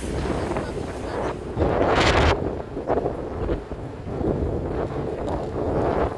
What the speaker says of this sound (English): It's windy, windy, and it's beginning to drizzle as well.